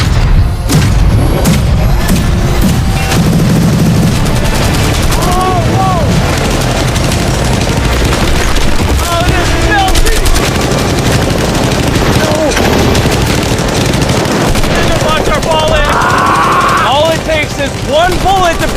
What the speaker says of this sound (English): They just brought out the LMG.